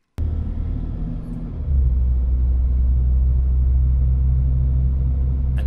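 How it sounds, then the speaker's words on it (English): A Ford Ranger with ABS, ESC and hill descent faults out on a test drive, its engine rumbling steadily from inside the cab and rising in pitch and loudness as it pulls away, with no talking. "I focus in on that while I bring it for a drive."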